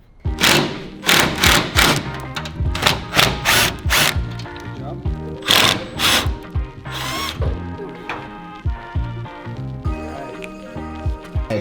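Impact gun and wrench work removing body panels and a nerf bar from a race car, with repeated loud bursts of whirring and rattling broken by clunks and pauses, close by.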